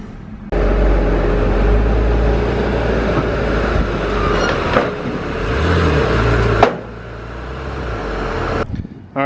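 An overheating Porsche engine idling, a steady low rumble that starts abruptly and holds, with a few brief rises and faint clunks toward the end, close and with no talk.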